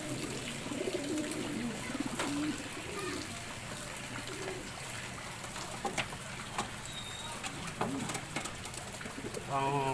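Racing pigeons cooing softly in the background, repeated low coos amid light rustling and faint splashing, with occasional voices nearby.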